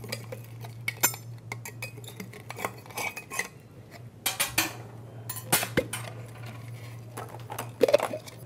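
A metal butter knife scrapes and clinks against the plastic base of a ventilator humidifier chamber, prying it loose in a series of irregular close taps, clicks and rattles, with a steady low hum running underneath.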